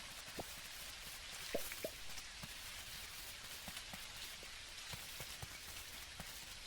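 Rain falls in the video game Dinkum as a steady, dense hiss, with scattered small drips and patters tapping through it and no talk.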